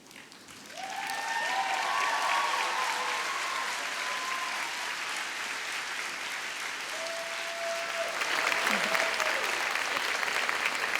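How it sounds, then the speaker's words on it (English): A graduation crowd gives a big round of applause, steady dense clapping that builds and stays loud, with cheers and voices rising through it. "give a big round of applause to all those people"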